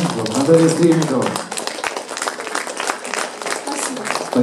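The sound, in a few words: applause for Natalya Strelnikova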